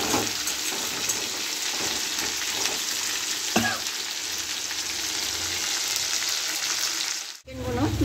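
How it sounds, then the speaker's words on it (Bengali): Chicken pieces frying hard in a pan over a high gas flame give a steady, dense, hissing sizzle throughout, close and fairly loud, with an occasional clink from the pan. "আমি কিন্তু এটাকে হাফ ভেজে নেবো। গ্যাসটাকে কিন্তু জোরে দিয়ে করছি"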